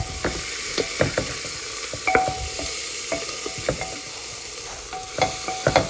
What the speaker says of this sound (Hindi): तो ये मैं तकरीबन थोड़ी सी जिंजर गार्लिक पेस्ट डाल रही हूँ।